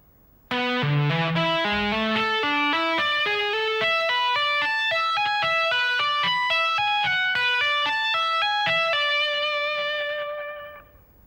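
A slow electric guitar funk rock lick with effects, a run of clear single notes stepping along steadily and ringing out before fading at the end.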